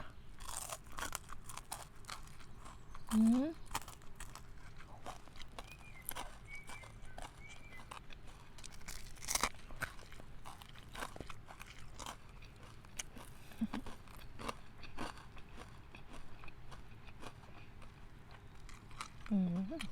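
Fried fish is eaten with papaya salad, making repeated crisp crunching and chewing bites close to the mic over a soft background, with a few brief voice sounds between mouthfuls.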